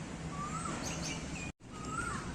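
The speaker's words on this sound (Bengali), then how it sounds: "কি সুন্দর কোকিল ডাকছে।" A koel calls outdoors near palm trees with clear, rising whistled notes, repeated twice with a brief gap between them and faint chirps in the background.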